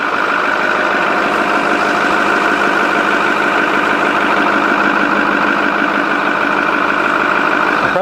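A 2009 Ford F550 truck idling with the A/C on full and its compressor running: a loud, steady, close engine drone with an even mechanical hum throughout.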